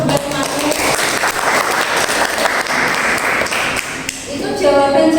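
Loud, dense applause from a classroom of students clapping together, sustained and close, with a brief dip near the end as it tapers before a voice resumes.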